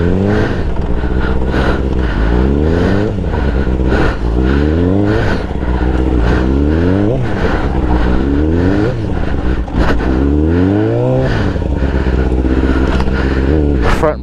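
A motorcycle that has just been bump started runs loud and close, its engine revving up and down repeatedly in rising and falling surges throughout.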